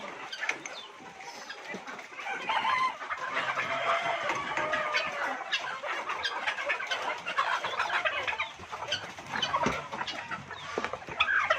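Busy, continuous chatter of many birds, with caged chickens clucking among them while eating biryani, steady and fairly close with no pauses.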